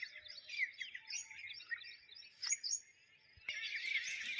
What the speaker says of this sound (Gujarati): બસ પક્ષીઓનો કલરવ જ સંભળાય